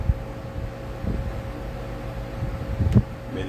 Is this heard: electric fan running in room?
yes